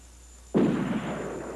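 Nose guns of a B-25 Mitchell bomber open fire with a sudden loud burst that settles into a sustained, rough roar.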